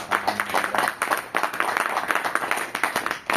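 A crowd at a charity show event applauds, dense uneven clapping from many people that swells and dips over a few seconds, fairly close and loud, with faint speech traces mixed in.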